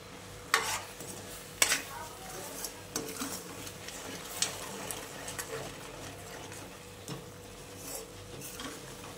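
Masala spices roasting in oil in a pan for a chicken rassa, with a spoon scraping and clinking against the pan in irregular stirs over a soft background sizzle.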